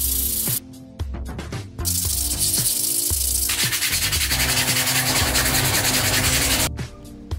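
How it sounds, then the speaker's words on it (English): Sandpaper is worked over a 3D printed Mark 85 Iron Man suit part, giving a loud, close, continuous abrasive rubbing with a few brief pauses between strokes. "Let's sand this thing nice and smooth."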